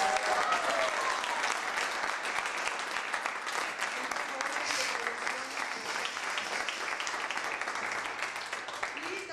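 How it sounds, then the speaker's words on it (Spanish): Studio audience applause on a Mexican variety show, with a steady wash of many hands clapping at moderate level, some voices mixed in underneath. "Un aplauso para ellos"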